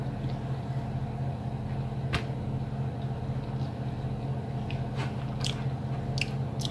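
Someone bites into and chews a soft Thai-style egg-white butter cake, making a few faint, scattered soft crunching sounds over a steady background hum, with no talking.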